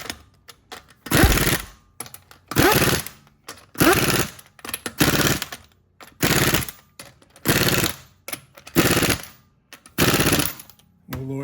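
Repeated short bursts of an impact wrench tightening the wheel lug nuts on a 2012 Ford Fusion, about eight loud rattling runs in steady succession with brief pauses between.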